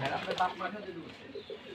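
A loft full of Giribaz pigeons gives soft, faint cooing, brief and somewhat muffled, with a voice-like murmur mixed in near the start.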